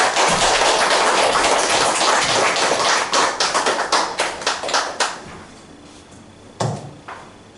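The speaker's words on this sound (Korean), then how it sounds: "박수로 환영하겠습니다." A church congregation at a Sunday service applauds to welcome a preacher, with dense clapping from many hands that thins into a few scattered claps and then fades to near silence.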